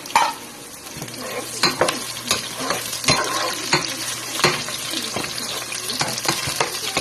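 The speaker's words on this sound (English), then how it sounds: "So now you add in the onion." Chopped onion fries in a pan for Filipino adobo, with a steady close-up sizzle and frequent clicking and scraping as it is stirred. No one speaks.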